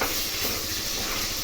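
Ginger frying in a pan gives a steady, close, broadband sizzle and hiss that holds at an even level throughout, with no voices.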